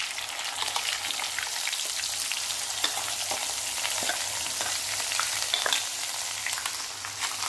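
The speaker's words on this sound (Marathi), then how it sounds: "आता जी आपण पेस्ट तयार केलेली आहे ना कांद्याची ती टाकून घ्यायची आहे" Onion paste sizzles and fries steadily in hot oil with cumin, bay leaves and curry leaves for a dhaba-style cashew curry, a continuous close hiss with occasional stirring scrapes.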